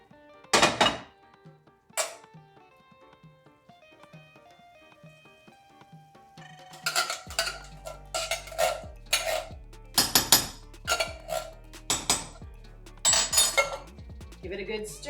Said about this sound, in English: the last thing you have to add is a can of diced tomatoes.